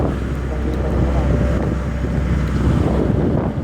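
Strong, cold wind roars and buffets the microphone throughout as rain arrives after a sandstorm, a continuous low rumble with no pauses.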